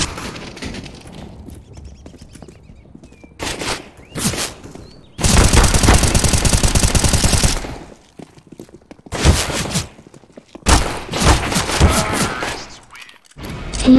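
Automatic rifle fire in the video game Counter-Strike: GO, loud sustained bursts of rapid shots separated by quiet gaps, with a few single reports and softer in-game sounds between.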